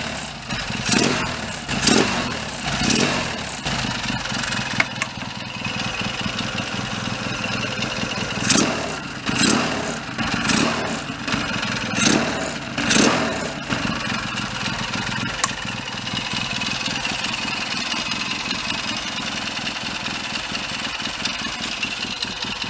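A Triton café racer motorcycle with stainless pipes and Goldie silencers runs close by, idling with a muffled burble and then several sharp throttle blips and revs before settling back to a steady idle.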